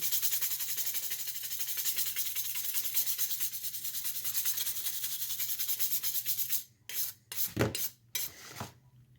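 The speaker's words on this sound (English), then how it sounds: "I got this little brush deal here, and I went ahead and got some heavy-duty Scotch-Brite pads" A metal axe head is scrubbed with a small brush and heavy-duty Scotch-Brite pads. The scrubbing makes a continuous close rasp that breaks into a few separate harder strokes near the end, with no talking.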